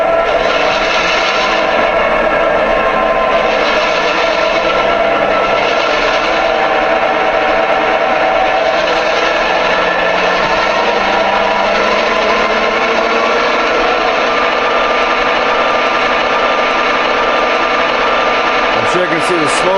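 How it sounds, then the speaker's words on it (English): Engine sounds from an MTH PRR E-8 A-B-A model diesel set step through several RPM levels, a continuous loud close drone whose pitch slowly rises and shifts, ending with a brief clatter. "Here's some of the various RPM level sounds"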